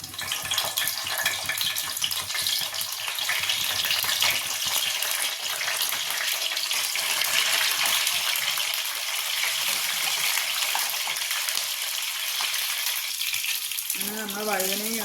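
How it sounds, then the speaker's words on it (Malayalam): Cut brinjal pieces fry in hot coconut oil with a continuous, close bubbling hiss that holds steady throughout, and a voice briefly cuts in at the very end. "വെളിച്ചെണ്ണ ഒന്ന് ചൂടായതിനു ശേഷം നമുക്ക് കട്ട് ചെയ്ത് വെച്ചേക്കുന്ന വഴുതനങ്ങ ബ്രിഞ്ചാൾ എടുത്തിട്ട്"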